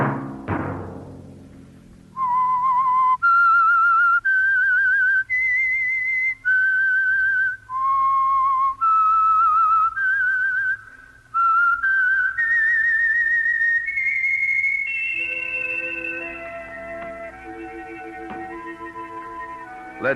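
A clear, steady whistled melody of sustained notes, loud and close, rising and falling before a softer instrumental passage takes over, as a radio show's theme.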